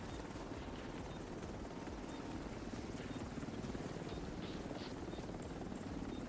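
A helicopter idles before departure in The Division 2 video game, its rotor a continuous muffled thrum and whoosh at moderate level, with no speech in the moment.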